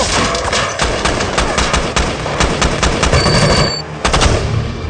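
Loud, close machine gun fire in the film Act of Valor, Hindi dub, rattles in sustained rapid bursts, with a brief gap before another burst.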